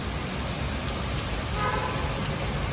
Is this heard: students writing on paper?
no